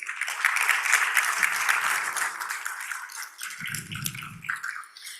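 An indoor audience at a city commission meeting applauds and cheers a K-5 Teacher of the Year, giving dense sustained clapping that slowly fades, with a few voices calling out near the end.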